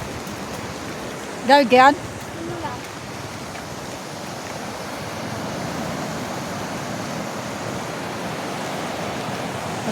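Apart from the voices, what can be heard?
strong flowing floodwater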